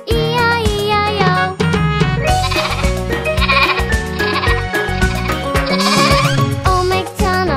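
Sheep bleating in a nursery rhyme about a farm, with loud bleats repeated over bright, bouncy music and jingling percussion throughout.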